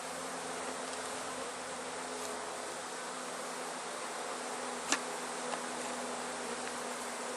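Honey bees buzz in a dense, constant drone around an opened hive, close and steady throughout, with one faint sharp tap midway and no talking.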